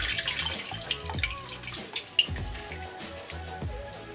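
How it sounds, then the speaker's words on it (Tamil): Tamarind water splashes and trickles steadily into a pot, with gurgling and dripping sounds close by. "இதிலே இந்த புளி கரைசலை வந்து ஊற்றிக்கலாம்."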